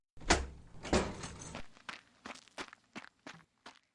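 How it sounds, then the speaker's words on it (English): Footsteps in a story scene of a man running out a door: a loud scuffing clatter at the start, then a quick run of short, distinct steps fading in strength, heard alone without talk. "Jim went to look and saw Black Dog running out the door."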